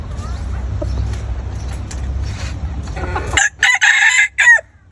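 A laying-age chicken on a rooftop farm calls loudly and close in the last second and a half, several rising squawks coming in bursts after a stretch of low rumbling background.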